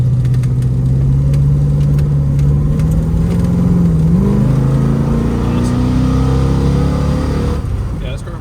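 A 1972 Plymouth Roadrunner engine revs up loud and close to about 4,000 RPM, the pitch climbing and wavering before easing back down, with no talking.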